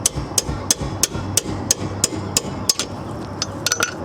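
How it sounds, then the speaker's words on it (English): A carpenter's hammer taps a 12mm wrench on a rear brake caliper bolt of an Acura TL, about a dozen sharp metallic strikes in a steady rhythm, close and clear. "I'll be using a 12mm wrench, and I'll be tapping it with a carpenter's hammer"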